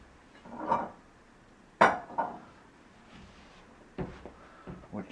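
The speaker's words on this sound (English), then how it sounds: "So I'll get a mixing bowl." Kitchen bowl being taken out for shortbread baking: a few scattered clinks and knocks of dishes and a cupboard, the sharpest around the middle, close and moderately loud with quiet gaps between.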